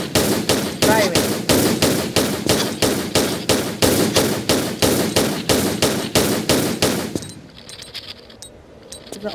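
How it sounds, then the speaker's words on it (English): Gunfire in a Tomb Raider custom level as the character shoots spiders, a loud, evenly spaced stream of rapid shots for about seven seconds that then stops, leaving faint game ambience. "take your guns out and you can shoot the spiders from this direction by jumping up and firing"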